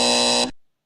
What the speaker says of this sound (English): you gave it a buzzer there